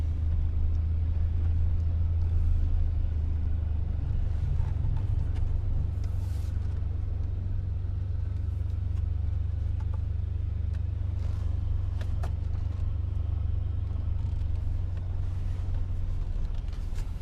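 A 2002 Chevy S-10 Xtreme pickup truck engine idles with a constant deep rumble, loud and close, holding steady without pauses.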